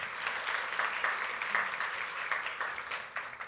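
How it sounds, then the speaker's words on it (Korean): An audience at a university forum awards ceremony applauds continuously, a dense wash of many hands clapping at steady loudness throughout. "큰 박수 다시 한번 부탁드리겠습니다"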